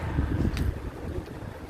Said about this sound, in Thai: วันนี้ลมเย็นมากเลยลมดี